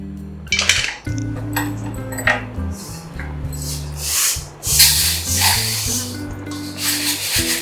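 Metal utensils scrape and clink against a pan and plate as modak sweet mixture is moved across, with steady rubbing and clattering throughout.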